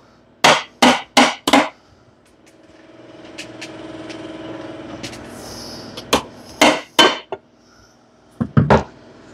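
Light hammer taps on a Briggs & Stratton Intek riding mower engine part with a broken compression problem: a quick burst of four sharp metallic strikes, a quiet pause, then two more clusters of taps, close and loud.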